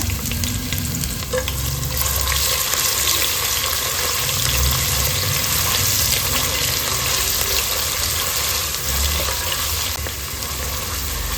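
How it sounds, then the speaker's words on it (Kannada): Finely chopped onion frying with bay leaves in oil, a loud, dense, unbroken sizzle with faint stirring beneath it. "ಒಂದು ಈರುಳ್ಳಿನ ಸಣ್ಣದಾಗಿ ಕಟ್ ಮಾಡಿ ಇಟ್ಕೊಂಡಿದೆ ಅದನ್ನು ಸೇರಿಸ್ಕೊಂಡು ಚೆನ್ನಾಗಿ ಫ್ರೈ ಮಾಡ್ಕೊಳ್ಳೋಣ"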